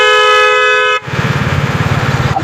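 A vehicle horn blares loud and close for about a second, then cuts off into a rumbling engine with a pulsing low throb, and no talk is heard.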